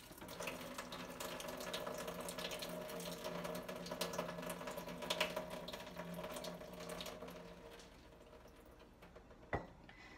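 Water drains from a jar of soaked sprouting seeds, pouring and trickling steadily for several seconds, then fading out, ending with a single sharp clink near the end.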